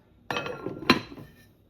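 Metal lid set back onto a cooking pot of vegetable ital stew with corn and dumplings, one clattering knock followed by a sharper ringing clank, close and fairly loud, with no talk.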